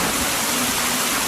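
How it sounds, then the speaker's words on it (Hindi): Cartoon rain pours down in a dense, loud, steady hiss, like a heavy downpour, continuous and close with no voices over it. "बिन बादल बरसात हुई।"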